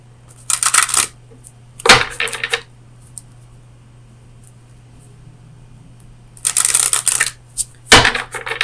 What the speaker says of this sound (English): let me get you a card from the Oracle of Visions